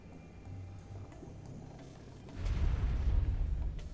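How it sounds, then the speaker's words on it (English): An automatic harpoon gun turret in FarSky opens fire underwater, a dense, rumbling stretch of rapid shots that swells loudly in the second half after a quieter lead-in. "So when you put down the harpoon gun, it's basically like a robot where it will fire at things that are attacking you"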